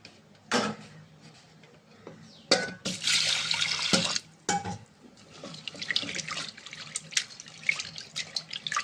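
Toor dal is washed under running water in a kitchen sink before cooking in a pressure cooker, with bursts of tap flow, sloshing and swishing of grains, and small knocks of the vessel close by.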